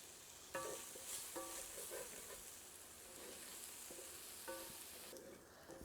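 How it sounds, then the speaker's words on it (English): Chopped onion frying in rendered pork fat for a Finnish pork sauce, a soft continuous sizzle with a few spoon scrapes and stirring clatters across several seconds, fairly quiet and without speech. "I have here 1 onion chopped, so we're just going to fry this up"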